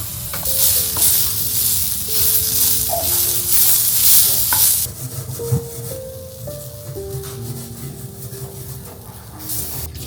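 Tomato and spices roasting together in a pan for a Kolambi rassa (prawn curry) masala, with steady stirring scrapes over a continuous sizzle that is louder at first and then settles to a softer fry.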